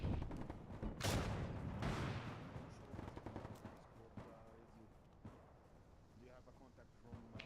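Gunfire during a firefight in a military tactical shooter game, with sharp bursts of shots early and scattered single reports later, loud at first then receding, under radio-style talk between squad members.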